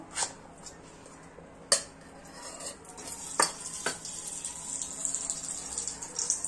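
Ghee heating in a pan on a gas stove for rava upma gives a soft, steady sizzle that builds over a few seconds, broken by sharp clinks of a spoon against the pan, close and fairly quiet.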